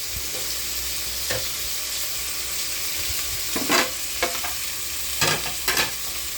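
Meat filling being sautéed in a pan for monggo with jackfruit and pork leg, a steady sizzle with several louder bursts of stirring and spatula scrapes toward the end, no talking.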